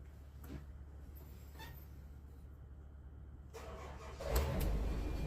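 A Woodmizer sawmill engine cranks and catches, rising into a louder steady idle over a low background rumble near the end.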